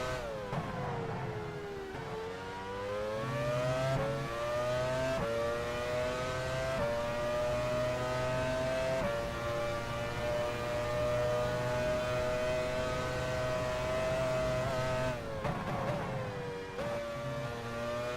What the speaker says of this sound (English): I think we're going to get lapped in a second. I can hear a car behind.